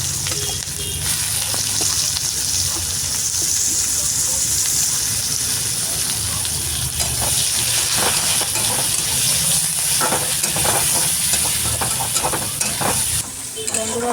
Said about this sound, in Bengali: বন্ধুরা পেঁয়াজ ভাজাটা হয়ে আছে,